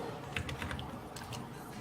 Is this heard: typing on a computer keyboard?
yes